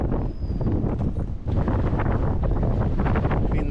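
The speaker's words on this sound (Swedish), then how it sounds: "Det blåser rejält." Strong wind roars across a moored sailboat in a harbour, with heavy gusting rumble and microphone buffeting that stays loud and constant, and a brief dip in the gusts partway through.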